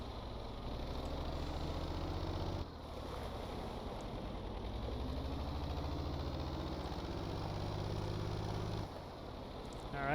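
A video game boat engine chugs on in a steady drone without a break, with a low rumble and faint water wash, briefly dipping twice.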